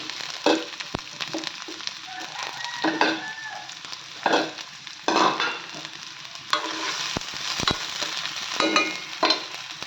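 Onions sizzle and crackle in hot oil, with intermittent scraping and stirring knocks from a utensil, close and fairly loud.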